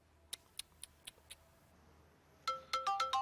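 A phone ringtone plays in a dubbed drama: first a run of soft, evenly spaced electronic beeps, then after a short pause a louder series of bright, rapid repeated tones.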